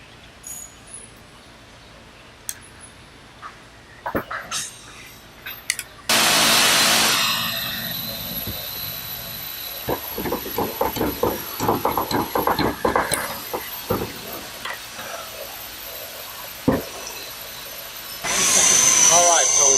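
Sailboat stainless rigging wire being cut with a power tool, a sudden loud sustained whine that runs several seconds, then settles under clattering handling and speech, before the cutting surges again at the end.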